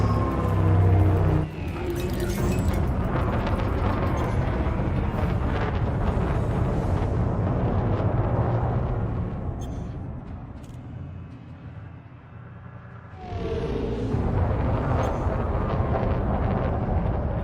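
A target ship blows up during space combat in Elite Dangerous: a loud, broad rumbling blast opens, a sustained roaring wash follows and fades, then a second heavy burst of noise surges near the end.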